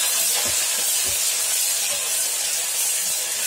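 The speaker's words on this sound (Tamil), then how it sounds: "இது கூடவே ஜிஞ்சர் கார்லிக் பேஸ்ட்டு 3/4 ஸ்பூன் போடுறேன்." Ginger garlic paste sizzles in hot oil in a pan while vegetable pulao is being cooked, giving a steady, loud frying hiss with faint low thumps underneath.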